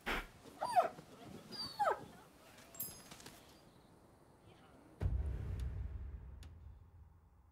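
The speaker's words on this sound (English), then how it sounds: "here's a puppy." A puppy in the video game Rise of the Ronin gives a few faint high whimpers and yips early on, followed by quiet ambience and a low rumbling rush.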